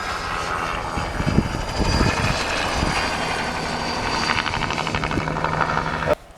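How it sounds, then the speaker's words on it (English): A helicopter, apparently spraying herbicide over planted pines, drones overhead with a steady rotor and engine rumble, fairly distant and continuous, with some faint nearby noises. "we heard these helicopters last night or yesterday afternoon, and then we heard them this morning."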